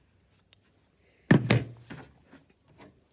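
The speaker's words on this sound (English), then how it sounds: "Then you're going to trim it close, about 1/2 inch." Scissors snip embroidery floss close to a double knot during a craft session, giving a few quick, sharp cuts close by over a quiet room.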